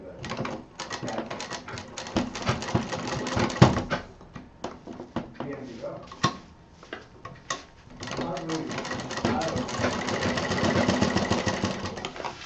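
A sewing machine stitches a zipper onto fabric in rapid buzzing bursts, pausing and starting again several times, close and fairly loud, with someone speaking between runs.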